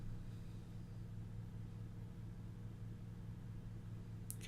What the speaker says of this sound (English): can probably hear the fan running in the background associated with the compressor.